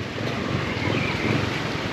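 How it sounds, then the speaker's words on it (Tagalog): Strong wind at a beach rushes and buffets the microphone in a steady, loud roar, with surf blending into the noise. "Parang mas malakas ang hangin dito."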